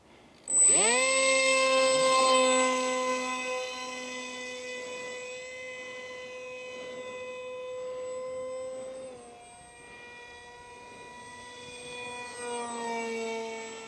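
An RC F22 V3 jet with an FP 2700 Kv electric motor flies past, its steady high-pitched whine holding close and loud at first, then dipping and swelling again as it circles.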